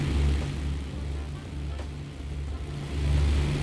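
Twin piston engines of a BN-2 Islander aircraft in Microsoft Flight Simulator drone steadily with a low pulsing hum, swelling and easing slightly in level, with no voices over them.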